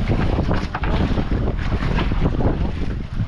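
A boat turns on open water in a fishing spot, with steady wind buffeting the microphone and waves splashing against the hull.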